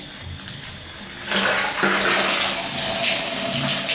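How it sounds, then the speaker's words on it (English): A faucet runs with good pressure into a sink that drains freely. The water is a steady, close rushing sound that jumps louder partway through and then holds as a full, continuous flow. "we have still a lot of water coming out the faucet"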